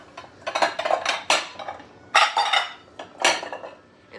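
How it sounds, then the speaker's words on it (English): Dishes and utensils clatter and clink in a kitchen as a mixing bowl is pulled out and handled, several bright clanks in quick irregular bursts, with no talking. "So let's get another bowl."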